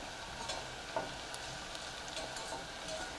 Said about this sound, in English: you don't need to cook the shallot for long, about 2 or 3 minutes just to soften it up